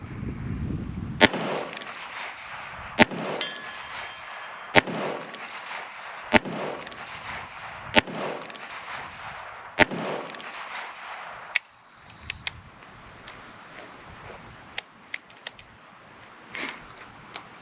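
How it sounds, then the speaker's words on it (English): A Heritage Rough Rider revolver with a 16-inch barrel, chambered in .22 Long Rifle, fires loud single shots spaced about every one and a half seconds, each crack followed by a short ringing decay, then fainter scattered clicks and pops toward the end. "Let's shoot again."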